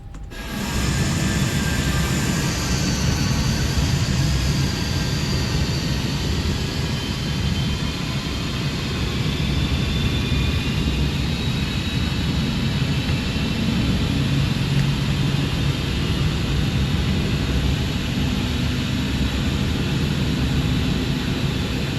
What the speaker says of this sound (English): Just gotta love the sound of the 777 engines.